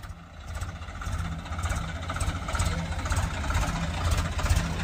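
A Swaraj 744FE or 735FE tractor engine runs steadily at idle, a low continuous rumble with a faint rhythmic chug, growing slightly louder over the few seconds.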